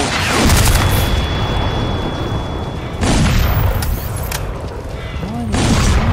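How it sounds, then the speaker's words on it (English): Explosions blowing up walls in Crysis 2, with heavy booming blasts and rumbling debris that burst in twice and then roll on, loud and close, while a voice talks underneath. "Blew up the walls."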